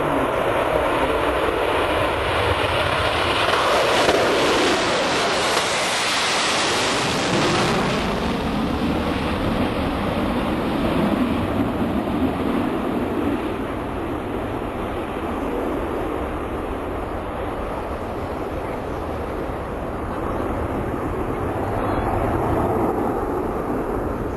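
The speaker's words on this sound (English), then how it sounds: "after it flies by and takeoff, you'll see it passing by at high altitude. And then you'll hear this boom." The X-59 aircraft passes at high altitude as a steady, distant jet roar that swells and slowly fades, with no voices over it.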